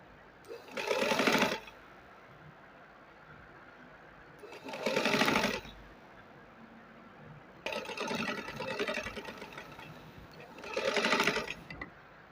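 A sewing machine stitches lace onto a sleeve in four quick bursts of rapid mechanical whirring, each lasting about a second or more, separated by quiet pauses.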